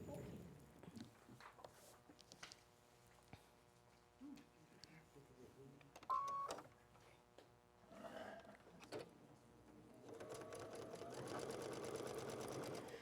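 A sewing machine stitches quilt rows for a mini quilt in short, quiet bursts of rapid whirring with pauses between runs, then settles into a longer, steadier stretch of stitching near the end.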